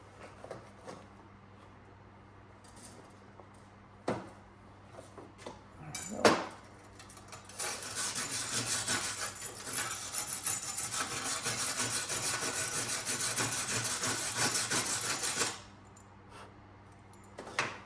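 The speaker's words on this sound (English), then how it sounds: "Let's get a brush here and clean it off." A brush scrubs fresh metal welds clean. A few sharp knocks and clatters come first, then a loud, sustained rasping scrub runs for several seconds before stopping abruptly.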